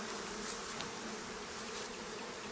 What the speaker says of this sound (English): the bees are currently outside because they're a little mad at me